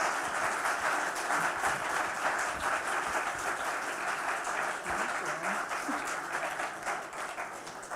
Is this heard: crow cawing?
no